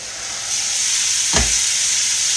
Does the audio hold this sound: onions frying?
yes